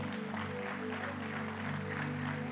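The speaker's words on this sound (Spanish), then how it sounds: "Le damos un aplauso al Señor" A church congregation applauds in a steady, dense wash of clapping that fills the whole stretch, carried over sustained musical tones from instruments playing underneath.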